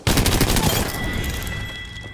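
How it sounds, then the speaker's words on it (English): A loud, sudden volley of video-game gunfire aimed at the player, with rapid cracking shots up front that fade into a ringing, decaying tail. "They're shooting at me."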